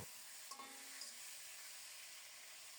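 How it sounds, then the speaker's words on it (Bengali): A salted, turmeric-coated rohu fish head frying in hot oil gives a steady, dense sizzle that begins abruptly and carries on evenly at close range, with a faint crackle early on and no voices. "রুই মাছের মাথাটাকে লবণ হলুদ দিয়ে ভালোভাবে ধুয়ে নিয়েছি এরপরে লবণ হলুদ মাখিয়ে গরম তেলে ছেড়ে দিলাম লাল লাল করে ভেজে নেব"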